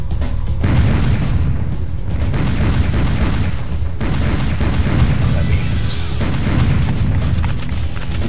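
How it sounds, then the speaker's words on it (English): Rocket launcher in the video game Serious Sam HD: The First Encounter firing, with loud booming blasts and rumbling explosions that roll continuously through the whole stretch, dense and heavy throughout. "Okay, rocket launcher time."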